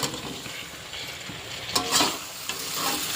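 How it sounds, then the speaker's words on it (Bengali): Fried potatoes and pointed gourd are tossed into an oily spice paste in a pan for a shrimp-paste pointed gourd curry, producing a steady close sizzle with scraping stirs that grow busier toward the end. "এইবারে দিয়ে দেব ভেজে রাখা আলু আর পটল"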